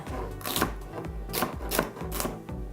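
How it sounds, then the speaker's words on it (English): A knife chops through an onion on a cutting board in several sharp, close thumps at an irregular rhythm, each with a brief crunchy crack, and no one speaks. "easier to cut with the round side up because you're cutting through all of those little veins"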